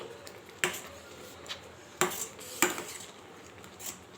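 Spoon scraping and clinking against a pan while semolina is stirred on a stove set to low heat, several sharp metallic taps spaced apart over a quiet background.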